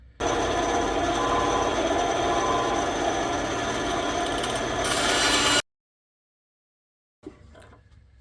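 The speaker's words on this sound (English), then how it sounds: "it's time to cut it out on the bandsaw" A bandsaw cuts through scrap wood with a steady, loud buzzing whine for about five seconds, rising slightly near the end before stopping abruptly, followed by silence and a faint knock.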